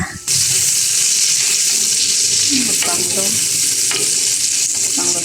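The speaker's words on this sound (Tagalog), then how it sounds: "dito ko na nga rin pala igigisa yung bawang at sibuyas" Garlic and onion sauté in the oil left over from frying milkfish, a loud, continuous sizzle that starts sharply and runs steadily, with occasional stirring clatter and no talk.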